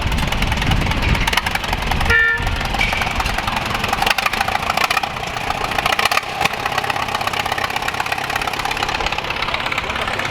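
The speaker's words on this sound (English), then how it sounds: "Up next, we have an Allis Chalmers WD-45, manufactured from 1953 to 1957." Allis Chalmers WD-45 tractor, built 1953 to 1957, running at an outdoor threshing show, a steady loud engine rumble with a knocking beat throughout, close by, with no talking.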